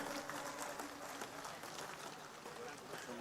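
A large crowd claps steadily at a Thakor community mass gathering in Gandhinagar, a dense, continuous roar of hands, with a voice talking over it.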